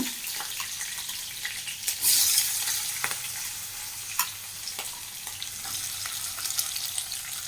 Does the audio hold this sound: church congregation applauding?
no